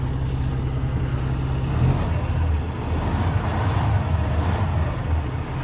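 A truck's power take-off kicking in on dirt-moving equipment: a steady loud diesel engine drone with a low rumble and a faint hiss on top, continuous with no talking.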